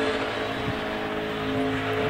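A NASCAR Nationwide Series race car's engine drones steadily during a qualifying lap, shifting pitch slightly as it works through a corner, with constant loud motor noise throughout.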